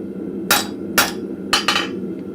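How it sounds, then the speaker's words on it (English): Blacksmith hammering a drift held on the edge of an anvil in a forge, four sharp ringing metallic strikes, the last two close together, loud and near over a low hum. "So I'm just holding the drift on the edge of my anvil"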